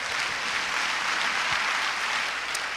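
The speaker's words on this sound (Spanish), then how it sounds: "Un aplauso al Señor." A church congregation applauds steadily throughout, a dense even wash of clapping at moderate loudness with no voices standing out.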